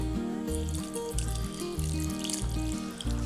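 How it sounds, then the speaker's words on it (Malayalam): Water poured into a mixer jar with rice and coconut for grinding appam batter, a steady trickling splash heard close up alongside a low background hum. "ഇനി ഇതിലേക്ക് വെള്ളം ചേർക്കാം."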